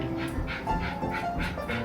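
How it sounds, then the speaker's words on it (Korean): A puppy barks in a rapid string of short, high yips and bow-wows indoors, repeating about every quarter second at moderate volume with no talk over it. "건 강아지 소리"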